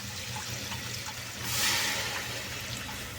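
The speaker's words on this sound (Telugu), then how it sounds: "నీళ్ళు పోసుకున్నాం." Water is poured into a pot of chicken curry, making a faint, steady rushing splash that swells briefly midway over low background hum, with no talking.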